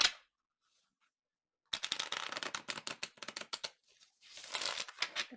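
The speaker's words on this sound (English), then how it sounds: "Okay, we're going to shuffle." A deck of tarot cards is shuffled in close, crisp bursts of rapid riffling clicks after a brief quiet pause, the last burst a denser flutter.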